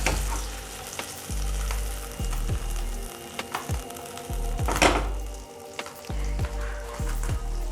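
Butter melting in a hot pan for paneer butter masala, a steady close sizzle and crackle with repeated scraping strokes of a utensil across the pan, no voices.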